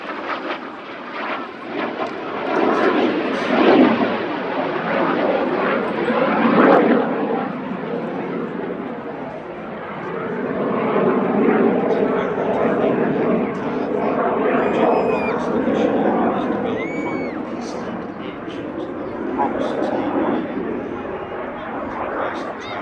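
A BAC Jet Provost jet trainer aircraft roars steadily at the Midlands Air Festival 2025, its engine noise rising and falling as it passes, with a crowd murmuring and talking beneath.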